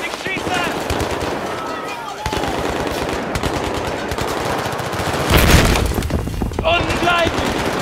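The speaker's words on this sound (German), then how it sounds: "Ich schieße!" Rapid machine-gun fire in Battlefield 3 with German-speaking soldiers, loud and nearly continuous, with a heavier burst near the end and shouted voices mixed in.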